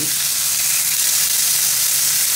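Rump steak pan frying in real time, a steady close sizzle and broad hiss with no breaks and no voices.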